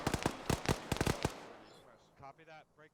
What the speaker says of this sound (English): I'm hearing more shots down there